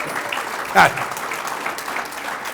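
A crowd applauds steadily while a speaker at a Common Sense Club event talks over the clapping, with a brief vocal exclamation near the start.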